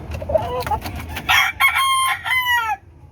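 A rooster crows once, close and loud, a long drawn-out call that rises and then trails off, following a few short clucks.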